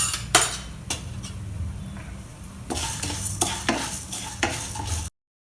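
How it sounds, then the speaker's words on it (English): Chana dal and urad dal are stir-fried in hot oil. A soft continuous sizzle runs under repeated clinks and scrapes of a utensil against the pan, close up and moderately loud. "stir fry them till the dals are a golden brown color"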